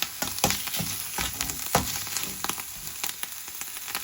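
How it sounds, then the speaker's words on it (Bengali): Leftover leafy greens (shak) reheating in a pan sizzle and crackle close by, with irregular sharp pops and stirring scrapes over a steady hiss, no voices. "রাত্রে শাক রান্না করেছিলাম এটা গরম করে নিচ্ছি"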